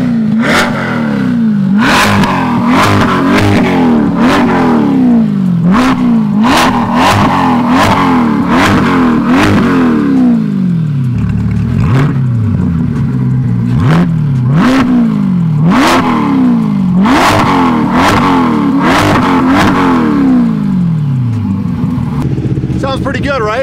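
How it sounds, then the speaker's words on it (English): A C8 GT4.R sports car engine revs hard again and again, each burst climbing in pitch then dropping, loud and close, repeated in quick succession. "let's bring it outside, do a few revs, and give you a quick launch control as well."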